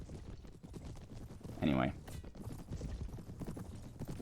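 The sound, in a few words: horse hooves galloping in the video game Mount & Blade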